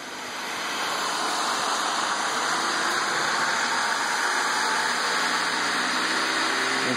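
A Siemens 1PV5133 electric motor driven by a DMOC645 controller and fitted with a clutch adapter runs steadily, a loud, even whirring roar with a persistent high whine, close and without talk.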